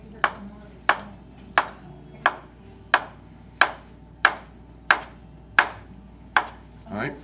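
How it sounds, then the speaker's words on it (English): A knife chopping gnocchi dough into small pieces on a board, about ten crisp, evenly spaced thuds in a slow steady rhythm, close and clear with faint room noise between. "I'm gonna cut them into little gnocchi balls"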